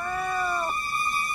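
A cat gives one short, tonal meow with a bending pitch, clear and close, followed by a steady sustained tone.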